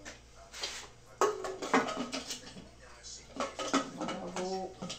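A cooking pot is handled and closed with a lid in a home kitchen, giving a series of metallic clanks and scrapes of varying loudness amid low background sounds and occasional talk.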